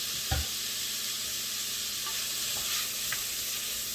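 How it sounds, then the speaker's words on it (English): Onions, potatoes and bacon sautéing in a pot, a steady close sizzle and hiss with a few soft knocks of a utensil stirring against the pot, no talking. "saute this until the bacon is rendered"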